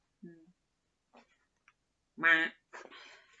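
A duck quacks once, a short, loud, close call that follows faint scattered clicks and ticks and comes just before a brief rasp.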